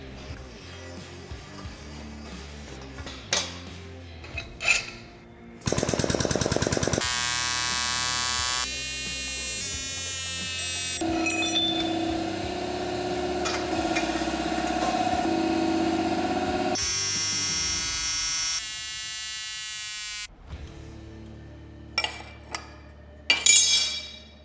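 A power saw cuts through steel tubing clamped for a welding cart build, long loud whining passes of several seconds each, broken by short clanks and handling noises between cuts.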